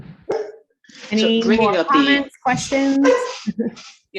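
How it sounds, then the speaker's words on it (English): A dog barks in the background of a home during an online roundtable presentation, faint and intermittent beneath a person speaking steadily in the foreground. "my dog's now barking in the background again"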